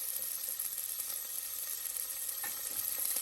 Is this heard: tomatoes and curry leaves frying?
yes